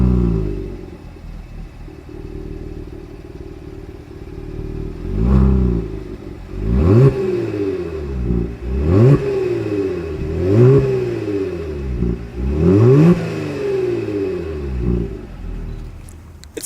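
A 2020 Genesis G70 with the 3.3-litre engine and dual exhaust revs repeatedly from idle, each loud rising blip falling back to a steady rumble, about five or six revs in a row with no talking.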